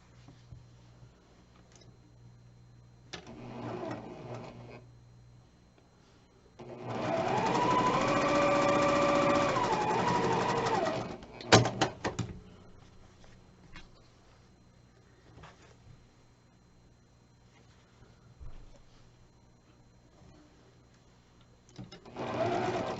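A sewing machine stitches the center row of a quilt, one loud continuous run of a few seconds in the middle, with quieter handling clicks and fabric rustles before and after.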